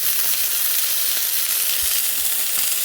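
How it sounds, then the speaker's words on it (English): Prime rib steak sizzling steadily in a hot pan, a close, even hiss of frying meat with occasional faint pops and no talking. "And I have my prime rib cooking"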